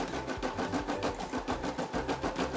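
A Brother SE600 embroidery machine stitches out shark eyes with a steady, fast rhythmic whirring and clacking of the needle, close up and continuous, with no voices over it.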